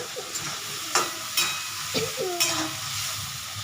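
Prawns frying in mustard-poppy seed oil, a close, steady sizzle broken by several sharp spatula scrapes and clinks against the pan, with no voices.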